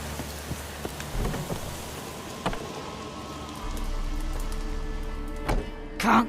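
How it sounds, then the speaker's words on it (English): Steady rain patters on surfaces in The Witcher 3, a soft hiss with scattered louder drops and occasional sharp clicks, rising slightly in intensity toward the end with a brief burst at the close. "Looks like rain."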